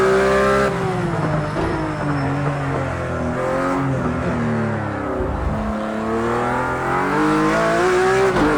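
A Porsche GT3 RS engine in a racing video game revs loudly and continuously, its pitch climbing and dropping through gear changes as the car accelerates hard at speed.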